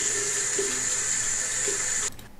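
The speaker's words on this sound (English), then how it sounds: "I'm going to wash my hands," Tap water streams steadily into a sink while hands are washed, a close and fairly loud continuous hiss with a few faint knocks in it, cutting off just before the end with no talking.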